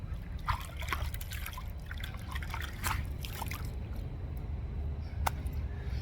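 Water trickles and splashes steadily while a razor and face are rinsed after a wet shave, a quiet close running stream broken by brief drips and sloshes.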